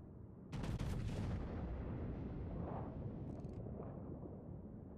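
Destroyer shells from the Grozovoy firing in a naval combat video game, a heavy booming burst that rolls into a long, loud rumble with a short crackle midway.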